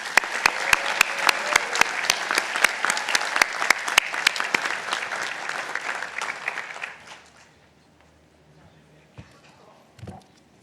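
Dense audience applause at an engineering commencement ceremony, loud at first and tapering off after several seconds, followed by near quiet with a couple of faint knocks.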